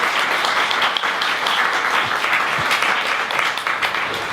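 Loud, sustained audience applause for three panelists at a panel discussion about Rikers Island prison, a thick even wash of many people clapping that holds steady from start to finish.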